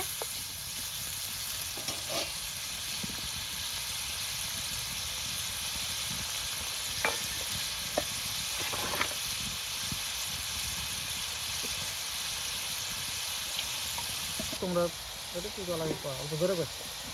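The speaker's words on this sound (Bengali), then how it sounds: "মশলাটা ভালো করে কষা নিতে হবে" Spice masala frying in a pan for Bengali aloo dom, a steady low sizzle and hiss running throughout, with occasional stirring scrapes and a louder clatter near the end.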